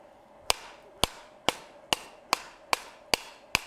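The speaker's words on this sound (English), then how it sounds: "Now I'm using a rawhide mallet" A rawhide mallet strikes metal on an anvil during forging: eight evenly spaced, sharp impacts about half a second apart, close and loud, each with a brief ringing decay.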